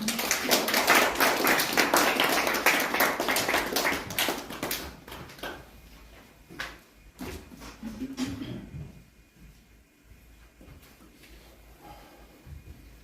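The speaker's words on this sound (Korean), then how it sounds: "나오실 때 박수 한번 주시죠" Audience in a conference hall at a prayer-meeting forum claps as a pastor comes up to give a talk, a dense burst of clapping that thins out and fades after a few seconds, leaving scattered taps.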